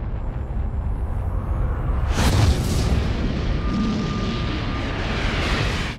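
A deep, rumbling boom rolls out as a collapsing star explodes, swelling into a loud, sustained roar that lingers and slowly fades.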